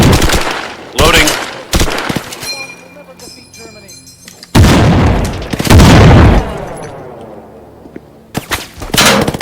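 Machine gun fire in a WWII military-simulation video game, coming in loud bursts and single shots with heavy booming reports that alternate with quieter gaps.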